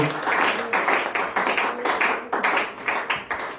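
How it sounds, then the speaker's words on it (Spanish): A church congregation applauds in rhythmic waves of clapping, bursts rising and falling steadily, moderately loud throughout with no clear speech over it. "Denle un aplauso a Él"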